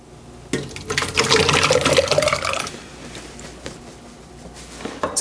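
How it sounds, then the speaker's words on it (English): Tomato puree poured into a Nesco roaster oven, a thick liquid glugging and splashing steadily for a couple of seconds close by, then tapering to faint drips and small splatters. "So let's get this tomato puree into the Nesco roaster oven so we can prepare our tomato sauce."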